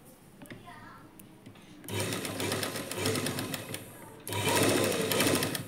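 A domestic sewing machine stitches a lining blouse in two bursts of rapid whirring, the second louder, after a quieter opening with soft voices.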